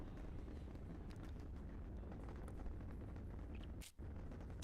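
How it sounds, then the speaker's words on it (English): A dense, continuous rocket engine rumble from Kerbal Space Program roars steadily during a test flight, with crackling bursts and a brief dip in the noise near the end. "We can hear the rumble and feel the thuds of the vehicle."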